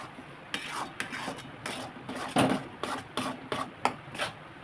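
Roasted wheat flour mixture for mango ladoo is stirred in a pot, giving a steady run of close scraping and clinking strokes in an irregular rhythm, with no voices.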